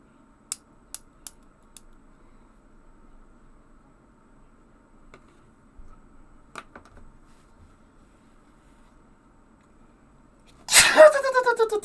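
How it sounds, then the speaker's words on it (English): A single sharp sneeze bursts out loudly at the very end, after mostly quiet room sound with a few faint clicks and taps. "You made me sneeze."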